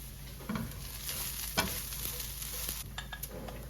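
Kale added to a pan of softened onions, a soft steady sizzle close up with scraping and stirring noises on top, fairly quiet, with no talking.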